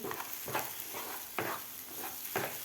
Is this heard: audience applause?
no